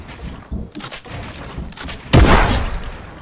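Heavy sniper rifle shots in a first-person shooter game, a few scattered booming reports followed by one much louder close blast whose heavy rumble lingers and fades.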